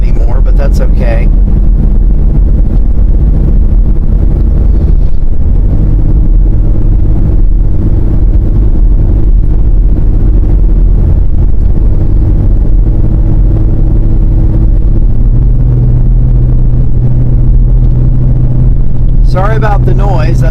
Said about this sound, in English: Sorry about the noise. That's harmonics from the exhaust,